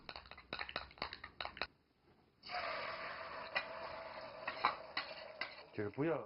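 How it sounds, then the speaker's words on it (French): Egg yolks stirred in a bowl for a French kitchen dish, a run of quick clinking strokes, then a short pause, then a denser, steady scraping and whisking close by that continues to the end. "on mélange les jaunes"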